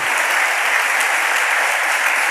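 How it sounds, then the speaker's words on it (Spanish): A church congregation claps in steady, dense applause that stays loud and even throughout, with no voices breaking through. "Dele un aplauso al Rey bendito"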